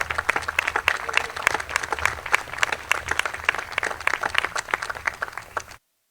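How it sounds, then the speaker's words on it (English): A crowd at a university engineering and science building groundbreaking ceremony gives a round of applause, dense steady clapping lasting several seconds before cutting off abruptly. "I think I would like to give John a round of applause here."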